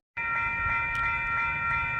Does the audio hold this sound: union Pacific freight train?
yes